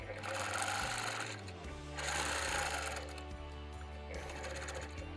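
A Gammill longarm quilting machine in idle mode gives off a quiet, steady mechanical hum and rapid stitching clatter that swells and eases in waves, with a little background noise.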